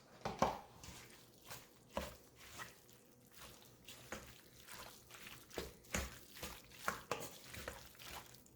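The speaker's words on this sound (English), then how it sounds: "So now I'm going to add in about a cup of ricotta cheese. And then I'll stir that" A spoon works a cup of ricotta cheese into a sausage, spinach and mushroom calzone filling, making faint, soft wet thuds and scrapes that repeat roughly once a second in a quiet room.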